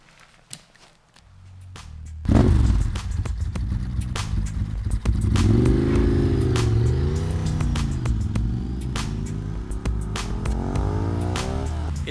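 A Ducati 996 motorcycle ridden on the road: a deep V-twin engine starts up loudly and holds steady, rising and falling in pitch as it revs through gears, close and continuous.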